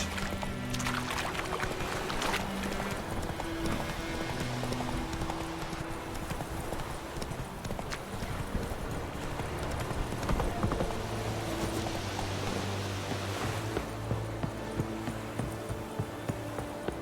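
Hooves of Roach the horse clip-clopping in The Witcher 3: Wild Hunt, a steady trotting rhythm on ground under ambient game sound and music, mid-distance, with no talk.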